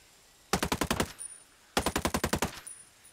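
Tavor AR assault rifle fired in Ghost Recon Breakpoint, two close bursts of about eight rapid, evenly spaced shots each, loud and sharp, separated by a brief pause, with no talk.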